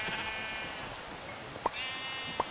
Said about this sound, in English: now if I just replace this with sheep